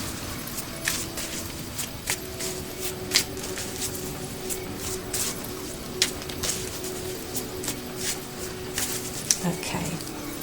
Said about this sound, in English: I'm going to shuffle the cards now